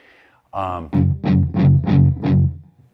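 A palm-muted guitar riff played through a distortion amp with a subwoofer underneath: five short, heavy chugs in an even rhythm follow a brief opening note, loud and close.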